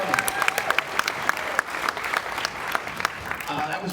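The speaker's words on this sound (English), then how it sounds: "a nice round of applause for Joey." Audience applause for a comedian at a stand-up comedy show in August 2019, dense rapid clapping from a nearby crowd throughout, with talk over it.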